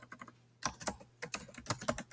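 Computer keyboard typing, a quick uneven run of close, crisp key clicks after a short pause, with no talking.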